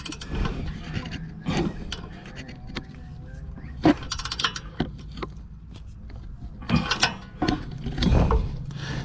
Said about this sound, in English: We need that 17mm socket. So we'll just torque up this one.